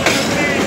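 The Argo Bromo Anggrek passenger train roars straight through Manggarai station without stopping, a loud, close, continuous rush of wheels and rail noise.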